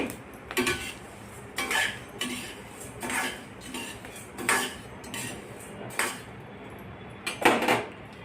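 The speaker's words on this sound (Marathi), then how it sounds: "आता आपण ह्यात कढई गरम असल्यामुळे सगळं एकत्र करून भाजणे." A spoon scrapes and knocks against a hot kadhai while thalipeeth bhajani flour mix is dry-roasted, giving regular metallic clanks roughly every second over a soft scraping bed, close by and without talking.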